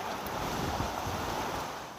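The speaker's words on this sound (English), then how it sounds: "Sorry about the wind, guys, but it's windy as heck here." Constant heavy wind buffeting the microphone outdoors near a parking area, a loud low rumble with no pauses across the whole stretch.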